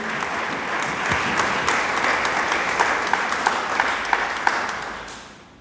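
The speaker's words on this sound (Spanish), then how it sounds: "Dele palmas al Dios del cielo." A church congregation claps steadily during a Spanish-language sermon, a dense, even wash of many hands with scattered sharper claps, holding for several seconds before tapering off at the end.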